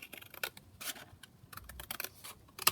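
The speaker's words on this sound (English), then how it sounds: "So just again trim this one down like that" Scissors trimming paper for a junk journal, a string of quiet, crisp snips and small rustles at close range, faint overall, no talk.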